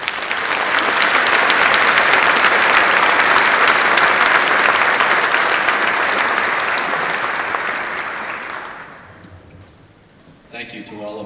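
Dense, loud applause from a graduation crowd at the 2015 NWHSU commencement, honoring a student speaker; it holds steady for about eight seconds, then fades out, and a voice begins speaking at the end.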